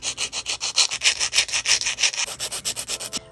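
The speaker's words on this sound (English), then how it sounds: "now I got my hand file, and I'm just going to reshape these nails." Rapid, even back-and-forth rasping of a hand file reshaping cut-down nail tips, about twenty close, steady strokes with no talking.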